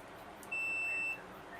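A multimeter in continuity mode gives one steady electronic beep of about half a second, loud and close, then falls back to quiet room tone. It is being used on the gear switches of an SX-70 camera.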